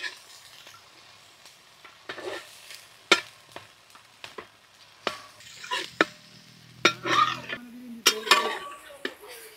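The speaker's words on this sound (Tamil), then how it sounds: "இப்போ நம்ம உள்ளியை வதக்குறதுக்காக வெட்டி வச்ச உள்ளியை போட போகிறோம்" Chopped onions tossed into hot oil in a village-style pan for country chicken biryani, stirred with clinking utensil knocks over a steady sizzling frying hiss, scraping strokes repeating near and moderately loud.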